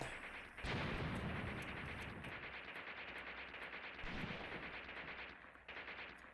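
Sustained gunfire aimed at infantry in the Graviteam Tactics wargame, dense bursts of machine-gun and rifle fire with heavier booming reports, a continuous loud barrage with rapid repeated cracks.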